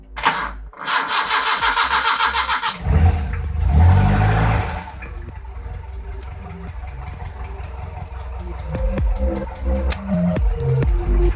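A Bajaj Platina motorcycle CDI ignition module fitted to a car cranks, fires and settles into a steady, loud, close idle with a few small rev changes. No one speaks over it.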